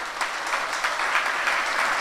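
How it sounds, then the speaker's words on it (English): Steady applause from an audience at a national scouts and youth awards ceremony in a city hall, dense clapping holding at an even level throughout. "A round of applause for all the traveling contingents."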